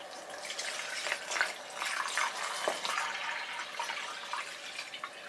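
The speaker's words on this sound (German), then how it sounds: "Dann füllen wir Wasser in den Filterbeutel vom BeFree." Water from a bottle pours into the soft collection bag of a BeFree hollow fiber filter, a steady splashing, gurgling trickle heard close up and alone for several seconds.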